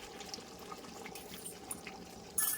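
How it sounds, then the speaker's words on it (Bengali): Whipped sour yogurt is poured into spiced meat cooking in a pan, making a soft, steady, faint wet pouring and trickling sound with a brief louder splash at the end and no talking. "এবার আমি টক দইটা দিয়ে দিলাম।"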